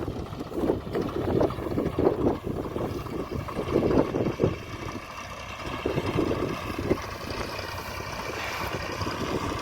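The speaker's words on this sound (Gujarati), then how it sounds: "એક બાજુ રોટાવેટર ચાલુ છે" A tractor-drawn rotavator churns soil in a Gujarati village field being prepared for wheat sowing, a continuous rough engine rumble with gritty bursts and some wind buffeting.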